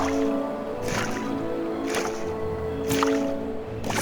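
Water sloshing in Edgar's wash tub in a vampire adventure game, with soft repeated splashes about once a second over a steady low tonal background hum.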